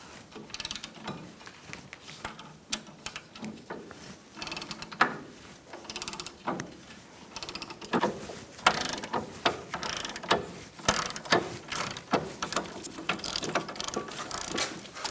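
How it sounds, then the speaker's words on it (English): A ratchet works a stuck brake caliper bolt back and forth on a 2010-2013 Kia Soul front brake job, giving close, irregular bursts of rapid clicking that keep going throughout. "I'm going to move this back and forth so that I don't break off the bolt."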